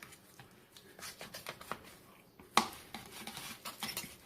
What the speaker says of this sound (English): Let me cut this in half.